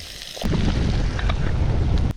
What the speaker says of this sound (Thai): ดูดิลมแรงขนาดไหนอ่ะ